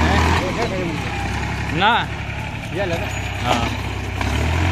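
A second mini tractor's engine runs steadily in an outdoor market setting, a low continuous drone under loud nearby talk, with a brief horn-like tonal sweep cutting through midway.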